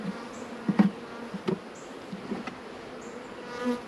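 Honeybees hum around an opened hive box, a close, steady drone broken by sharper buzzes as individual bees fly past the microphone, with a few small taps of handling.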